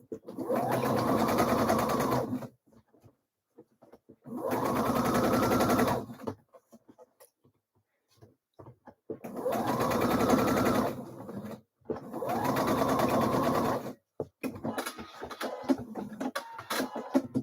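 A sewing machine stitches a blouse cuff in four separate bursts of about two seconds each, with quiet pauses and small handling clicks between runs.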